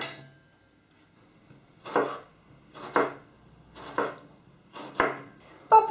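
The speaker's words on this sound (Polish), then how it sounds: "Pomidora kroję w pół plasterki." A knife cuts through a tomato on a cutting board, slicing it into half-slices about 5 mm thick: five distinct chopping strokes land roughly once a second, each a short crisp thud, close and fairly quiet in an otherwise silent kitchen.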